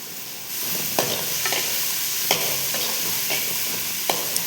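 Fennel seeds, green chilli, onion, curry leaves and coriander frying in a pan, a steady hiss punctuated by several sharp ladle taps and scrapes against the metal, close up and without speech.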